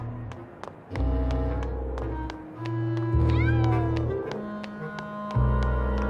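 Cats meow repeatedly in the video game Grim Fandango, several clear, drawn-out calls with rising and falling pitch over a low ambient drone, fairly close and distinct.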